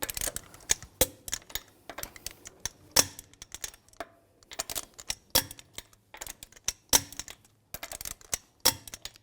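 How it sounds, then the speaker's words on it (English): Sharp metallic clicks from a torque wrench tightening the lug bolts on a 2006-2010 BMW 550i front wheel in a cross pattern, the bursts coming in quick irregular clusters with short gaps between them, close up and without talk. "Now we're going to torque the lug bolts to 98 foot-pounds in a cross pattern to tighten the wheel down evenly."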